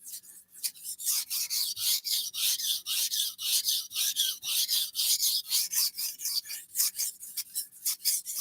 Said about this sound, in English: Let me know if on a knife sharpening level, if this sounds better than it did before for the other knife.